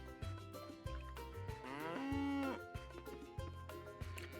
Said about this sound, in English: We've got Bison the cow